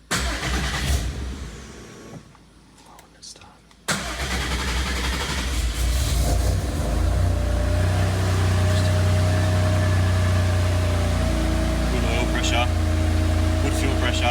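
Subaru Levorg with a 600+ horsepower engine and a new oil filter starts up after a short quiet pause, then settles into a loud, steady idle with a constant low drone and faint voices underneath.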